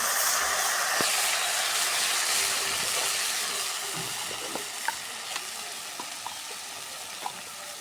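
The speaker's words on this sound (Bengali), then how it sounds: "এখন মশলাটা আমি কষে নিব" Spice paste of ground masala, turmeric, chili powder and a splash of water fries in a pan, giving a close, steady sizzling hiss that gradually eases, broken by a few sharp ticks of a spoon stirring.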